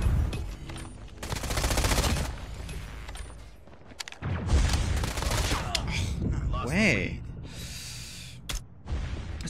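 A new SMG fires in a ranked shooter match, with rapid bursts of gunfire mixed among game effects and voices throughout, steady and fairly close.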